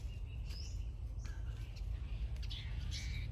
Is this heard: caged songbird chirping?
yes